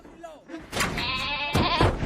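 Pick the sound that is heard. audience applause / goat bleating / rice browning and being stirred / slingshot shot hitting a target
goat bleating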